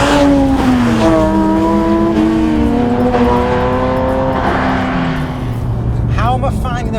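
A Porsche 992 GT3 with a JCR exhaust system on the move, its engine note rising and falling steadily as the car drives, someone talking over it throughout.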